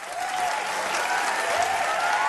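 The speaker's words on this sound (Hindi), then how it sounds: "इनके लिए भी जोरदार तालियां।" Audience applause at the 2017 Jio Filmfare Awards in Bollywood, a steady, dense wash of many hands clapping at even loudness throughout, with faint crowd murmur mixed in.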